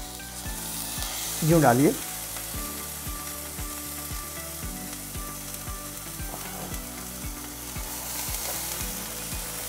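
Marinated chicken pieces sizzle steadily in hot ghee, with a louder hiss partway through as more pieces go in and a regular ticking underneath; a voice speaks briefly.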